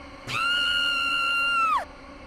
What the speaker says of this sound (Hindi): उस औरत ने मुस्कान के चेहरे के बिल्कुल करीब आकर एक बार फिर एक भयानक चीख मारी